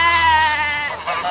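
A sheep gives a single loud, close, wavering bleat lasting over a second, with a trembling nasal quality outdoors on a farm.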